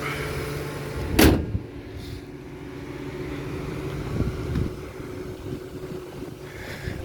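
The hood of a 2004 Lincoln Town Car slams shut in one loud, close thump, with the engine and AC compressor humming steadily in the background and a few faint knocks afterward.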